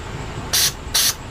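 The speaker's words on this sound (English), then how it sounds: "We'll spray up here in our emulsion tube, and you see that comes out this one." Cleaner sprays into the emulsion tube of a 1350-watt generator's carburetor in two short, close, sharp hissing bursts with a brief pause between.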